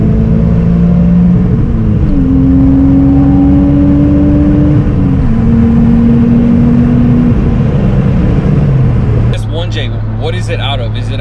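A 1JZ-GTE-swapped Lexus IS300 with a Grannas T56 gearbox drones loudly and close, its engine note rising and stepping between revs before dropping to a lower idle-like hum, with voices briefly near the end.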